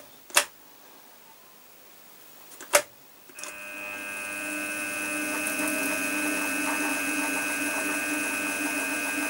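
Two sharp clicks, then a power drill running in reverse hums with a steady, tonal whine while backing out of a freshly drilled hole for a Helicoil thread insert.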